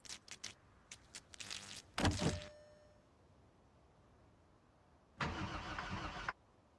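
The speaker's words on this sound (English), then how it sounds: "let's see if we can get this car going" Car engine in the zombie survival game Project Zomboid trying to start: quick clicks, a short cranking burst that fails, a pause, then a longer steady cranking attempt that cuts off abruptly.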